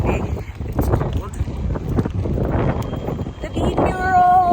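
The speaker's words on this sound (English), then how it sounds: "It's very windy." Strong, cold wind in Regina buffets the microphone in heavy, continuous low rumbling gusts, with people talking faintly underneath.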